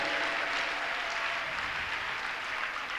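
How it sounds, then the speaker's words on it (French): A church congregation applauding, sustained dense clapping from a large crowd that fills the room steadily without pause. "Acclame et acclame."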